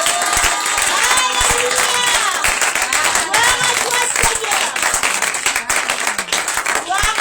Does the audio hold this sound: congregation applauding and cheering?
yes